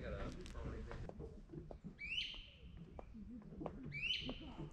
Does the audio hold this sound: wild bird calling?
yes